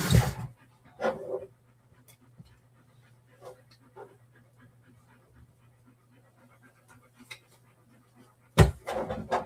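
A dog panting nearby indoors, with quick breathy huffs scattered through the quiet stretch and a low steady hum behind it, bracketed by louder bursts of movement and a brief voice.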